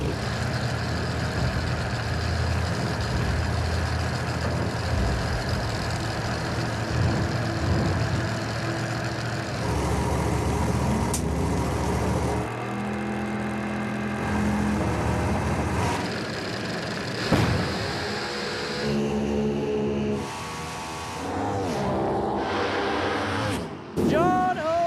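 A No Prep Kings drag race car engine fires up and revs in loud bursts at the track, under an announcer's commentary with crowd noise, the throttle blips growing sharper toward the end.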